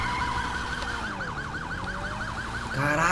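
Police car siren in GTA 5, a wailing tone that sweeps up and down steadily at middle distance, with road rumble beneath and a louder engine surge near the end.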